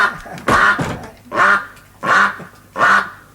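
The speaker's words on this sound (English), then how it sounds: "It's a duck." A duck quacks in four loud, honking bursts spaced roughly evenly apart, close by, with no talk over them.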